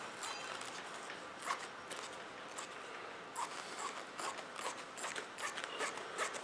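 Serrated scissors snipping Kevlar cloth for laying up aircraft gear doors, with a series of crisp, close cutting crunches in irregular bursts against a quiet background.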